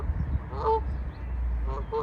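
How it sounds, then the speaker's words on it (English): A few geese honk sharply at intervals outdoors, with low wind rumble and faint background noise. "There are some geese honking."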